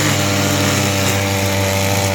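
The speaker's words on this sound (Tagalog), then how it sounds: "Nag-grass cutter sa farm niya." Grass cutter trimming grass on a farm, a loud continuous high-revving small engine drone with steady harmonic whine, close by and uninterrupted, with no talking.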